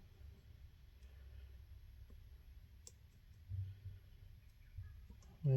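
Faint, sparse clicks from pins setting one by one while an APECS 7-pin cylinder lock is picked, a few soft ticks spaced over a quiet low hum.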